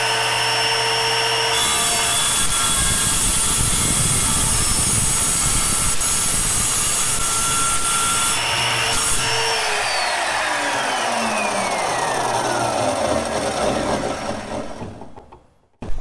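A power saw cuts landing gear parts for a CriCri airplane out of solid metal bar stock, producing a loud, continuous grinding whine that holds steady for most of the time, then its pitch drops as the tool spins down and stops.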